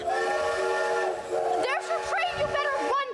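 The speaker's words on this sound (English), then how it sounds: "your train, you better run for it." A train whistle effect in a stage production of the musical The Music Man sounds as a sustained chord, then bends and warbles as voices speak over it on stage.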